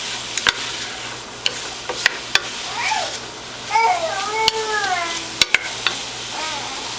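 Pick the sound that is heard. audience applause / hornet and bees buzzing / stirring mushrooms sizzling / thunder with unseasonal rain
stirring mushrooms sizzling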